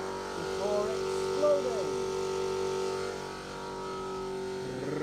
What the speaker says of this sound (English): Apologies for the compressor, that should turn off hopefully any time now